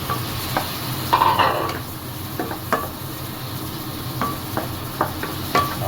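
Onion and ginger sauté in a pan for a pork trotter and mung bean stew, a steady sizzle running under repeated scrapes and clacks of a spatula stirring, with no one talking.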